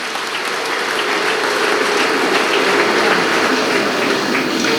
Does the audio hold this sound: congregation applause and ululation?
yes